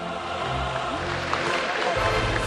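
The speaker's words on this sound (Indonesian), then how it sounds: "Kita beri tepuk tangan yang paling hangat hadirin sekalian." Warm applause from an audience at an Indonesian political rally, a continuous wash of many hands clapping with crowd murmur and a low rumble throughout.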